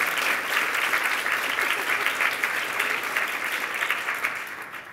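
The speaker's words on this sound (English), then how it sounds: "applaud, please." Steady, even applause from a seated audience at a panel event welcoming a panelist, sustained throughout with a faint voice underneath.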